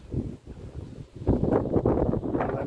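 Steady wind gusting around a church belfry during restoration work, a broad rushing roar that swells louder partway through and keeps buffeting the microphone, with no other sounds standing out.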